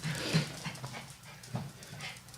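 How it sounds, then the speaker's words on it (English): Several dogs react to their owner's return with short, fairly close bursts of barking and whimpering, heard alone. "My dogs knew I was home and they're all pissed off."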